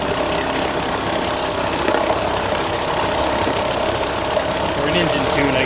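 A Johnson/Evinrude Colt outboard motor idles steadily after carburetor, water pump and starter repair, a continuous close, loud engine drone with light knocking and no gaps.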